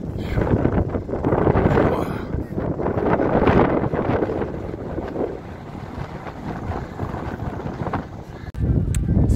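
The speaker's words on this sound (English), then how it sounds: "The sun's blazing, the wind is blowing" Wind gusts across the Arabian Desert in the UAE, buffeting the microphone with loud, rumbling roars that swell and ease over several seconds, close and unbroken.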